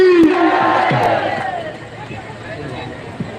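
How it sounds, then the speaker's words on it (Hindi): A crowd at a women farmers' protest rally in Rohtak roars a chanted slogan response, a loud shouted lead voice rising above the massed voices before the noise settles into a lower murmur. "आपकी तालियों की गड़गड़ाहट के साथ नारों के साथ उनको सादर आमंत्रित करता हूँ"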